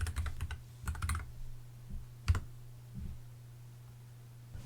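Keys tapped on a computer keyboard while a map name is entered, in two quick bursts of close clicks followed by a few scattered single taps over a steady low hum.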